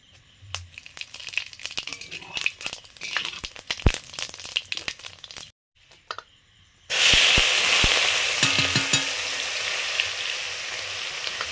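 Sugar, dried chilli, bay leaf and whole cumin dropped into hot oil for a meat curry, first scattered crackles and stirring clatter, then after a short pause a loud, steady, close sizzle that fills the rest.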